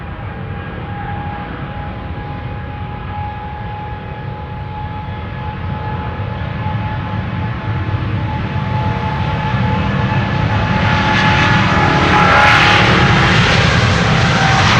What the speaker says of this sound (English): we are going to begin with this KLM flight 567. 777-200 going to Kilimanjaro